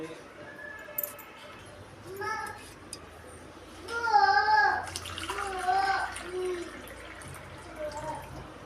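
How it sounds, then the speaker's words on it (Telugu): Four cups of water pour steadily into a cooking pot to be boiled for rice-flour kudumulu, a soft continuous splashing stream under a voice talking nearby. "ఈ విధంగా 4 కప్పులు నీళ్ళు తీసుకొని కాగబెట్టుకుందాం."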